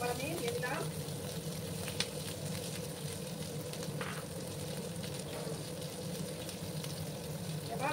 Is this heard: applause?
no